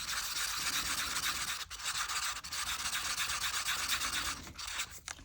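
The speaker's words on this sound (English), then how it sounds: "And then give this a mix up." Resin being stirred by hand in a small cup, a soft, continuous scraping and rubbing close by, with brief pauses before the stirring resumes.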